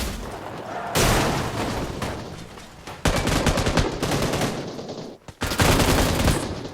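Gunfire in the mobile battle-royale game PUBG New State rattles in loud bursts of rapid automatic shots, with brief pauses between volleys and a quieter stretch before the final burst.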